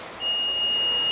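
An alarm sounds on a hand-load Tango beverage multipacking machine. A steady, high electronic tone starts abruptly and holds without a break over faint background hum.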